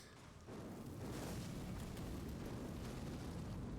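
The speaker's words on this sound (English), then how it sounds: "this is an explosion, but it's as close as I'm gonna get" An explosion in the video game Elden Ring bursts in with a sudden rise, then rolls on as a sustained, broad roaring rumble at moderate loudness.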